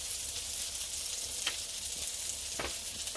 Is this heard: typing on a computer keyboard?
no